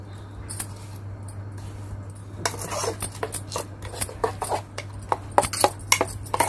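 Metal utensils clink and scrape against a pan and bowl as a tempering of mustard seeds, curry leaves and Byadgi chillies is stirred into coconut chutney, with sparse, irregular taps that grow busier toward the end.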